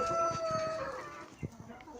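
Roosters and hens call over a steady din in a chicken coop, with a long crow drawn out near the start and scattered clucks following close by.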